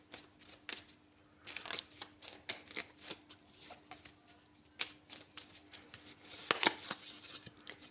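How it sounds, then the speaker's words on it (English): Astrology cards being shuffled and pulled from a deck during a card reading: a run of crisp, close flicks and riffles in uneven bursts, ending with a louder flurry, no voices. "So we're going to pull out an Astro card here."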